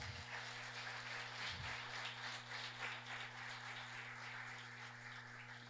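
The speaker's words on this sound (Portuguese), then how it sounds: "Aplauda ao Senhor." Church congregation applauding during a sermon, a steady wash of many hands at moderate distance over a constant low electrical hum, no voices.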